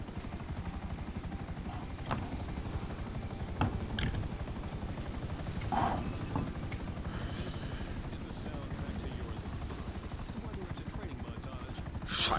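A steady droning rotor buzz from an aircraft in GTA V Online persists throughout, fairly close, with brief clicks and thumps and a swell near the end; voices talk intermittently over it.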